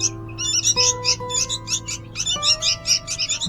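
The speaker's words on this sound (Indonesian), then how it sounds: "Ini burung kemarin loh, yang kita ambil dari pohon, kita rawat," Baby birds chirp in rapid, repeated high bursts while being hand-fed after being taken from a tree, the cheeping continuous and close over a steady low hum.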